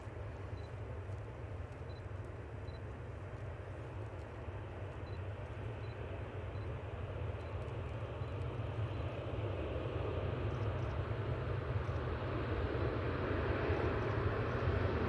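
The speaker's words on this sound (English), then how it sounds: "Q80 A330 Neo is on a taxi out" An Airbus A330neo taxies out at an airport, a steady distant engine rumble and whine that holds evenly and swells slightly over about fifteen seconds.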